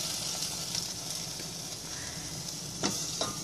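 Sofrito hits a pot of softened red beans with a steady, close frying sizzle and hiss that holds evenly throughout, broken by a brief stirring clatter near the end.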